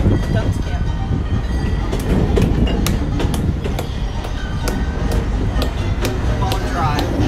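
An amusement park train ride at Cedar Point rolls along its rails with a steady rumble and rhythmic clickety-clack of the wheels, close and loud, while people talk over it.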